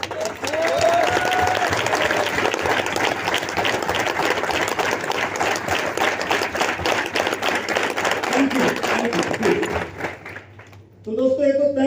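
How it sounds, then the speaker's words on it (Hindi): An audience at a talk claps together in a loud, dense burst lasting about ten seconds, then fades, and a voice starts speaking at the end. "एक बार हम सभी मिलकर एक बार तालियां बजाते हैं"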